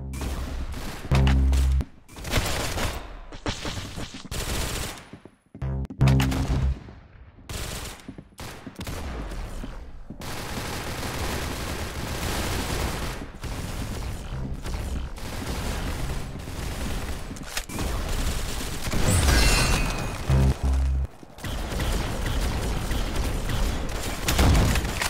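Gunfire in the Arsenal shooter video game: dense, loud volleys of rapid shots and single cracks with short gaps, then near-continuous automatic fire and occasional booms.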